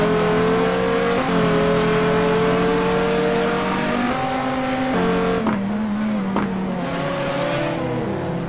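GT2 race car at Sebring in a racing game, a loud steady engine drone with shifting pitch that briefly hangs flat as if stuck in neutral, then drops and rises again, with faint overlapping engines.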